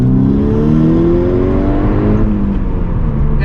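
A modified 2012 VW Golf R (MK6) accelerates hard, its engine note rising steadily in a loud, continuous drone heard close up from inside or near the car.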